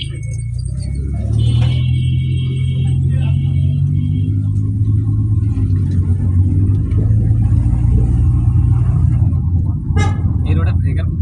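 A car drives along a wide road, giving a steady, loud low rumble of engine and tyre noise throughout, with voices talking inside over it.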